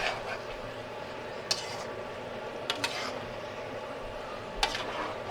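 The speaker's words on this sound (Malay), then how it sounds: "Okey, saya dah masukkan ayam. Maka bolehlah dikacau." A utensil scrapes and clinks against a small pot while chicken for rendang gently sizzles underneath, with a few sharp metallic taps, close up and without talking.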